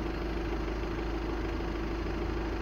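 A 2-litre Euro 5 diesel car engine of 170 horsepower idles under the open hood, a steady close low hum with an even mechanical rattle, no voices heard.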